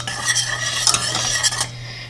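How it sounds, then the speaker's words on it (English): A whisk working powdered allulose into a mixture in a bowl, close rapid metallic clicks and swishes in quick uneven bursts that stop abruptly near the end. "I'm just going to whisk that in"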